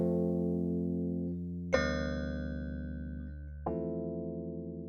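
Ableton Electric electric piano patch modulated by a shaper, three chords struck in sequence with bright metallic attacks, each sustaining with a wobbling, pulsing tone before the next strike.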